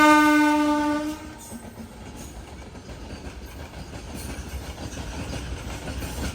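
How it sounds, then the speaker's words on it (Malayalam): A goods train passing a railway station sounds a loud, sustained horn for about a second, followed by a steady rumble and clatter of wagons rolling by close at hand. "ഏതോ ഒരു വണ്ടി വരുന്നുണ്ടെന്ന് തോന്നുന്നു. ഇത് ഏതാണെന്ന് നോക്കിയില്ല. ഇനി ഗുഡ്സാണോ നോക്കട്ടെ."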